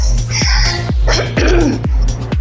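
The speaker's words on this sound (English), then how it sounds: "sorry about the coughing. And then clear my throat." Loud, close coughing and throat clearing, several harsh bursts over a thumping music beat.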